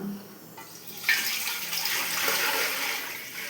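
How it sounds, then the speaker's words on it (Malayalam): Water pours from a tap-like stream into an uruli bell-metal pot while jaggery payasam is being made. A soft start builds to a steady, close gushing flow. "നമുക്ക് ഒരു ഉരുളി വെച്ച് അതിലേക്ക് ഈ വെള്ളം ഒഴിച്ചു കൊടുക്കാം"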